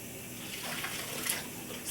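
Water runs steadily from a tap as a sponge is rinsed during cleanup of clay dust, a continuous close splashing hiss with no talk.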